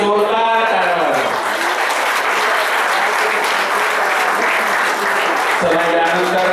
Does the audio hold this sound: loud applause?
yes